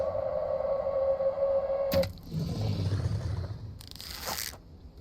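A wolf in the video game The Infected lets out a sustained, steady tonal howl for about two seconds, followed by harsh crunching and tearing noises.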